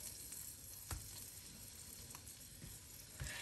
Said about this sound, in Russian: Ну что, начинаем жарить баклажаны.